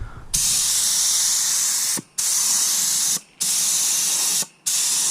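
Aerosol oil sprayed from a bottle onto a model car, four long steady hissing bursts separated by brief pauses, loud and close with no talk.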